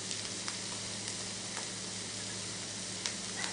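Meat, onions and kefir cheese sizzle steadily in a pan, a continuous close crackling hiss with a few faint clicks of stirring and no voices.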